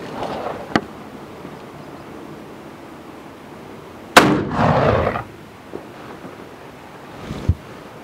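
A single .45 Colt round loaded with 40 grains of 2F GOEX black powder and a 255-grain bullet booms from a Single Action Army revolver outdoors. The shot is followed by a rolling echo, with wind noise and faint knocks before and after.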